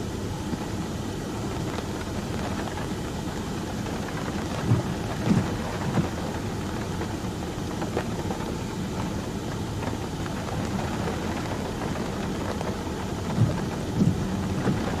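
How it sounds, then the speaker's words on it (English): Heavy rain pours steadily during a Dixie Alley thunderstorm in the Mississippi and Alabama region, a dense continuous hiss with occasional soft thumps and distant rumbles of thunder, no voices. "Lots and lots of rain, tons of rain."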